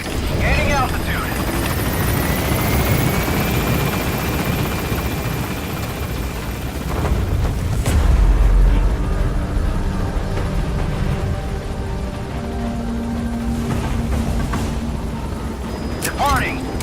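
A helicopter in Metal Gear Solid V lifts off with a loud, steady rotor roar and whine under game radio voices, swelling briefly midway as it gains altitude.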